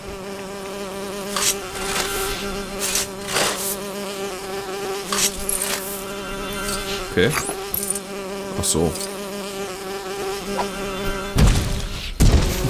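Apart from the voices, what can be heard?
bees buzzing at a bee nest in Lego Lord of the Rings video game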